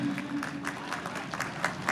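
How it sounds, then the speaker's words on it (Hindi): Clapping from the crowd at a marathon prize ceremony during a Mahashivratri festival, soft and steady at a distance, with a little talk mixed in. "सभी जोरदार तालियां बजाइए"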